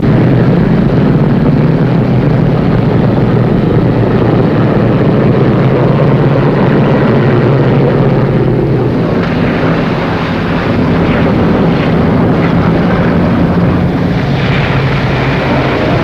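An airplane taxiing toward a runway at an airfield, its engine giving a loud, steady, close drone that fills the whole stretch without any talk.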